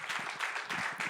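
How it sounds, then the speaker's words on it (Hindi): Congregation clapping hands together at a church service, a steady run of quick, dense claps from many people, moderately loud and without talk. "clap your hands."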